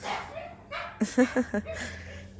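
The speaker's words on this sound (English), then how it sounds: "The neighbor's dog is losing his shit." A dog lets out a short burst of barks, four quick sharp yaps in a row after some softer whimpering sounds, fairly close in a suburban homestead backyard, with faint background noise.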